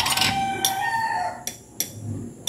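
A rooster crows loudly and close by at 5:30 in the morning after rain, a long drawn-out call, followed by a few sharp clucks from nearby chickens.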